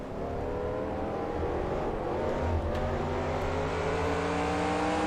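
A Next Gen race car in NASCAR Racing 2003 at Martinsville roars past close by, loud buzzing engine whine holding over a continuous drone of other cars for about five seconds, no talking.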